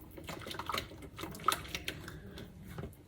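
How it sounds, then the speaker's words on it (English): A whisk beats butter and eggs for hollandaise in a bowl, making quick, uneven metallic clicks and taps against the sides, close and fairly quiet. "And then you keep whisking it."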